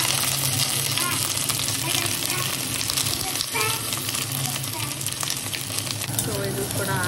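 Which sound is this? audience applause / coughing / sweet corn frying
sweet corn frying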